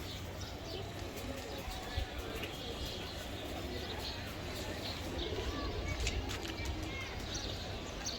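Racing pigeon chicks coo softly in a loft amid a dense, steady background murmur, with someone talking over them.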